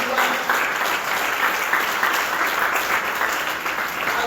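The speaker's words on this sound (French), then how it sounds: "Est-ce qu'on peut acclamer notre roi?" A church congregation applauding and cheering at a French-language Bible service, with steady, dense clapping from a large crowd sustained at an even level throughout.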